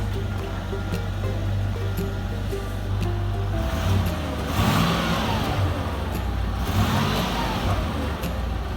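A Land Rover Discovery with a failing transmission, idling in drive, gives off a steady low whine with a constant droning hum that stays loud and even throughout.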